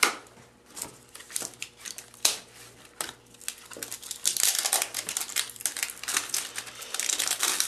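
A trading card pack wrapper from a 2008 Topps Sterling baseball box being torn open, close crinkling and tearing in irregular bursts that grow busier and louder toward the end, with no talk.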